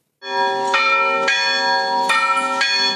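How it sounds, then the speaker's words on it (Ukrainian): The bell of a 1794 church in Velyka Kamianka rings loudly and repeatedly, its strikes spaced roughly evenly with a long ringing resonance between them. "Дзвіниця стародавньої церкви 1794 року скликає мешканців Великої Кам'янки"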